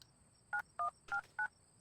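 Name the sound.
telephone dialing in Airport CEO video game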